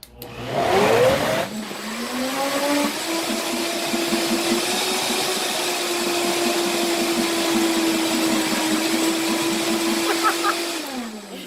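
A blender whirs through cashew whipped cream sweetened with agave, holding a loud, steady motor whine for about nine seconds before it cuts off.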